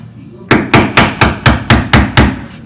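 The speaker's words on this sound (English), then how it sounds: "if we don't have a crowbar, you can use a flathead screwdriver. Just slightly tap" A flathead screwdriver is tapped to loosen backsplash tile, giving a run of about eight sharp, close, evenly spaced knocks after a brief quiet start.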